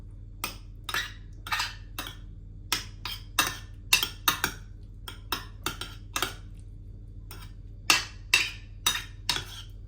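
Shrimp being mixed with sauces, garlic and powdered ginger in a bowl, heard as a steady run of sharp clinks and scrapes of utensil against dish, close and fairly loud, with no talking.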